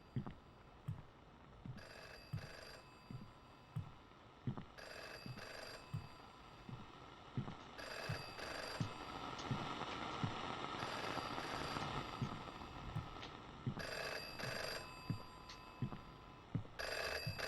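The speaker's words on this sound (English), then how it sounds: "I just heard the phone ring and now I can't go answer it." A telephone bell rings in repeated bursts, about eight rings spread across the stretch, each a bright metallic trill, somewhat distant and heard over a steady low rumble with regular soft thumps.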